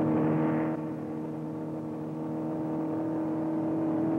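A Ford Mustang prototype runs at about 120 mph and 6,100 RPM on the Daytona Speedway, a steady engine drone and road whir that drops slightly in loudness early on, then holds constant with no voices.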